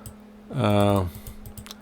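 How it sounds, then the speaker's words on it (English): Fingers type code on a computer keyboard as a run of light, quick key clicks, briefly covered by a loud gliding tonal sound in the middle. "open the code editor like this and type some code here"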